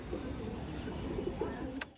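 Pigeons in a loft give soft, low repeated coos amid faint background murmur, with one brief sharp noise near the end.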